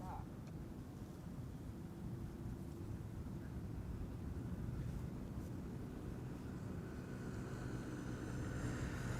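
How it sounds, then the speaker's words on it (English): An Emirates Airbus A380 approaching runway 18R at Amsterdam Schiphol, a steady low jet roar that swells gradually and stays broad and distant, with a voice talking faintly over it. "I spy with my little eye an Emirates A380."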